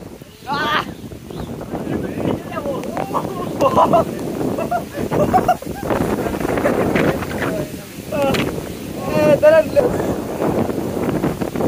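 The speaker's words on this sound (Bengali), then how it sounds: "আর এখানে একদম বাতাসটা প্রচুর" Strong wind in a rainstorm buffets the microphone in continuous rumbling gusts, with people talking throughout over the roar.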